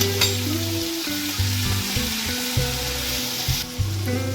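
Curry leaves crackle in hot oil while samosa filling is cooked, a close, continuous sizzle with a humming tonal background underneath.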